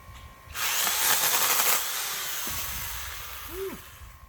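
A handheld power saw that starts at the trigger whirs up loudly and close by, runs steadily for about a second, then drops to a lower sustained whine, and a couple of faint clicks follow.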